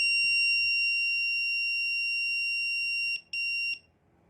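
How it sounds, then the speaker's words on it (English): Schlage Home Front deadbolt emitting its long factory-reset beep: a loud, steady high-pitched electronic tone that holds for about three seconds, briefly cuts out, resumes for a moment, then stops, with faint room noise underneath. "They say hold the button until the long beep is over."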